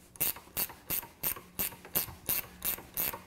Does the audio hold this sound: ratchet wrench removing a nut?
yes